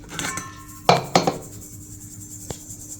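A metal sieve rattles and clinks against a bowl while ground chaat masala spices are sifted: a few sharp taps and shakes up close, then a quiet stretch and one last knock.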